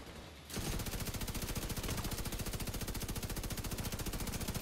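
Exotic Bullet King light machine gun in The Division 2 firing a sustained rapid burst, a dense, loud, even stream of gunshots that starts after a brief quiet moment and runs without pause to the end.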